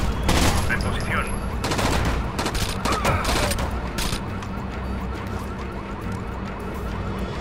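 Sustained automatic gunfire fills a shootout in Rainbow Six Vegas, dense overlapping bursts and single shots, loud and continuous, with shouted voices mixed in.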